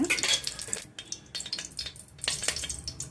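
Mint, coriander, green chilli, garlic and ginger crackle and sputter in hot oil in a pan for a vegetable kurma, with irregular bursts of frying and stirring close by and no talk.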